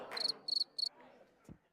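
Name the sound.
crickets chirping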